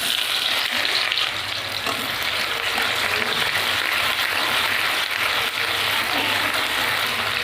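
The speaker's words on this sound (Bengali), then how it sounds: "এবার দিয়ে দেবো পেঁয়াজ কুচি।" Chopped onions hit hot oil with mustard seeds in a kadai for a Bengali home recipe, giving a steady, loud, close sizzle and spatter that holds evenly throughout with no talking.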